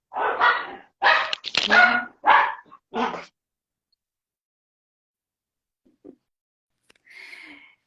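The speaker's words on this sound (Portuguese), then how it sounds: "meus cachorros já tudo agitaram aqui" Several house dogs barking loudly and close in a quick burst of sharp barks, then silence, a faint yip, and a short distant whine near the end.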